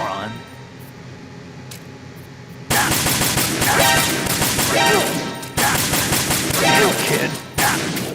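Rapid automatic gunfire in Metal Gear Solid 2, loud sustained bursts starting partway through and cut by brief pauses, with a voice speaking over it.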